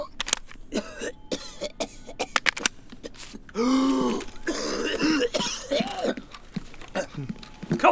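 In a solo Escape from Tarkov raid, a character coughs and clears his throat in a string of short, sharp bursts, followed by a longer stretch of groaning, gravelly coughing, with game sounds clicking around it.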